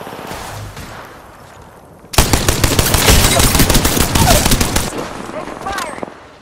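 Shotgun and automatic gunfire in the battle-royale game Apex Legends, a sudden loud burst of dense, rapid shots lasting a few seconds, with quieter game ambience before and a voice line over the action.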